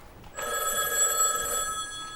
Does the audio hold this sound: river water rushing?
no